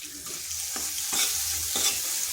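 A spice mixture with green chillies and salt frying in a pan, bright continuous sizzling broken by several scraping stirs, heard alone without speech.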